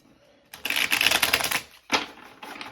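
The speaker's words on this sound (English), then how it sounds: "I'm going to do a quick shuffle with each deck, just so you guys can see the cards being shuffled" A deck of tarot cards is shuffled close up in two quick riffling bursts, a crisp rapid flutter of cards, the first longer than the second, followed by lighter handling; no speech.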